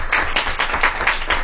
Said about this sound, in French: Donc merci de l'applaudir pour nous.